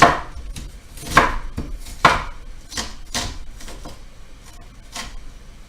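A sharp kitchen knife cuts through food on a cutting board for an oyster artichoke pasta, giving a few loud, crisp chopping thuds spaced about a second apart, with lighter knocks in between.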